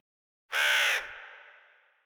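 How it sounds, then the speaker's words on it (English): A single crow caws once outdoors, a short harsh call heard at a moderate distance that trails off into a brief echo, with silence before it. "you just hear a caw from outside"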